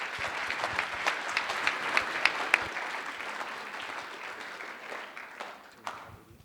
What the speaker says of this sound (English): and a hand of applause for you.